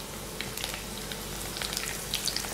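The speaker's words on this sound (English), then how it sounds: "Don't you think that sizzling sound is so therapeutic?" Food for katsudon sizzles and crackles steadily in a hot pan, close up, with scattered pops and spits over a constant frying hiss.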